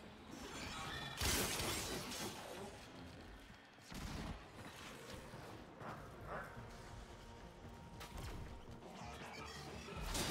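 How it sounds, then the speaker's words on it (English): Glass shattering in the Warframe video game, crashing bursts and smashing impacts amid chaotic gunfire and mechanical game effects, loud and repeated across the stretch. "Ah, there's glass there."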